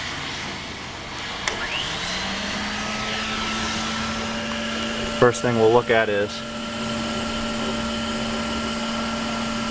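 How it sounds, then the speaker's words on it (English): A gasifier blower runs as a steady, broadband whirring drone throughout, with a faint tonal hum, while someone talks briefly near the middle. "I'm going to fire this blower up here"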